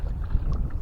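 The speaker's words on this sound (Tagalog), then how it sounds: "Medyo malakas na rin yung alon, yung hangin." Strong wind and choppy waves on the open sea during a fishing trip, heard as a brief, loud, churning low rumble of air and water with no speech.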